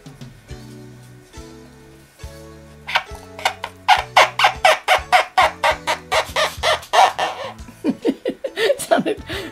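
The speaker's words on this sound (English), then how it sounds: "It sounded like a funny chicken." A homemade chicken noisemaker, a cup on a string jerked by hand, squawks in a rapid series of loud, clucking bursts that rise and repeat like a funny cackling chicken, close up after a quieter start.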